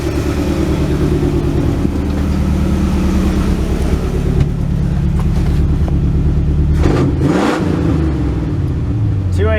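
A 1967 Ford Galaxie's 289 V8 idles with a loud, steady low rumble close by, then revs up sharply around the middle with a throaty burst before settling back to a lopey idle.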